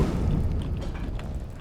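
A dragon-shout Fire Breath in Skyrim unleashes a deep, rumbling roar of flame, a sustained low boom that fills the whole short burst and slowly fades toward the end.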